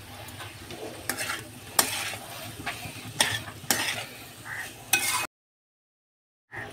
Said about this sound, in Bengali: আর 1 চামচ লঙ্কা গুঁড়ো দিয়ে ভালো করে মিক্স করে নেব